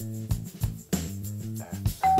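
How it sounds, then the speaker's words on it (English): An electronic doorbell chime plays a short melody of several tones in sequence, clear and fairly close, with no talking. "Is that the doorbell?"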